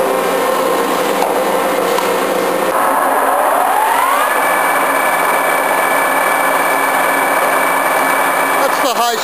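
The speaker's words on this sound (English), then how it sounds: "High speed on the machine." A 5-inch Giddings & Lewis table-type horizontal boring mill runs up to high speed, its loud mechanical whine rising in pitch over about two seconds, then holding a steady, dense drone close by.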